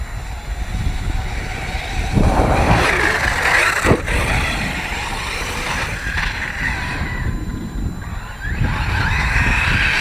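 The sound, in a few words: Talion cars' engines screaming on 4S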